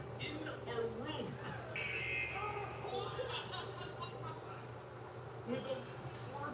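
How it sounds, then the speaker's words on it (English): A working basketball game buzzer in an indoor room court sounds in a brief harsh blast, partly masked by excited voices and laughter around it. "With a working buzzer."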